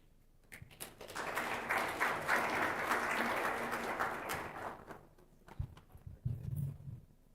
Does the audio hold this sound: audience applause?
yes